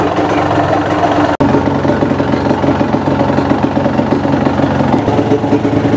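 Two-stroke motorcycle engine with twin radiators idling steadily, a buzzy, even drone with a brief cut near the start before settling back into a constant close running sound.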